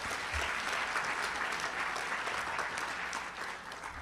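Steady applause from an audience at a school board of education meeting, honoring students, families, new staff and tenure recipients; dense, even clapping fills the room throughout, easing slightly toward the end.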